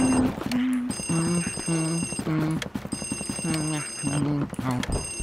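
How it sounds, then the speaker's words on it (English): Telephone ringing in the video game Luigi's Mansion: a steady run of repeated electronic double-tone ring bursts, close and loud, with a bright metallic shimmer. "Answer the phone!"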